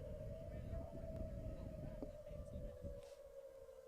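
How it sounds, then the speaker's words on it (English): A steady tornado siren wails in the background at a rugby match in Iowa, one sustained tone holding through the whole stretch, with faint voices and wind underneath. "Those are tornado sirens in the background."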